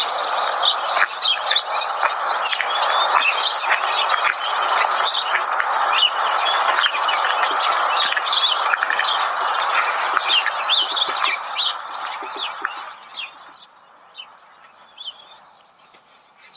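Dense, loud chorus of many birds chirping and tweeting outdoors, continuous and busy for most of the stretch before thinning and fading quieter near the end.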